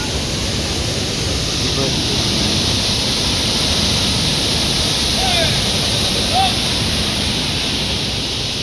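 Steady, dense roar of a waterfall at Lusuac spring in Peñarrubia, Abra, filling the whole clip as a loud, unbroken rushing wash with no pauses.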